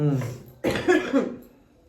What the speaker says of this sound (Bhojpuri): हमरा त खांसी आवता